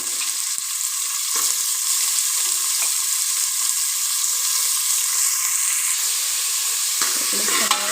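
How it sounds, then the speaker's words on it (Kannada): Onions sizzle and fry steadily in a pan during traditional Kundapura-style cooking, a continuous close hiss with a few soft stirring scrapes and no talking. "ಈರುಳ್ಳಿ ಫ್ರೈ ಆಯಿತಾ"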